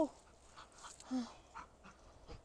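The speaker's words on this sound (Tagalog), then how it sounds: "Yung aso." A dog pants and lets out a few soft whimpers and yips, fairly quiet, with some faint background noise.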